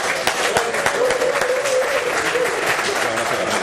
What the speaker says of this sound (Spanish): José María Montoro, al cual pido un aplauso.